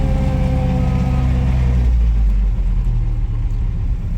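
A 1960 MGA Coupe climbing a driveway in first gear, its engine giving a deep, steady low rumble close up, strongest at first and easing slightly toward the end, with no talking.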